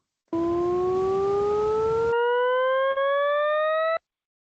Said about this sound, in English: what we just heard was a tone sweeping from kind of a low pitch to a higher pitch